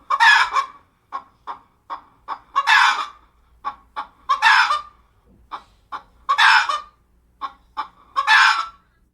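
A hen clucking near her chicks, in a steady rhythm of short clucks broken by louder, harsher calls, close and clear with no talking.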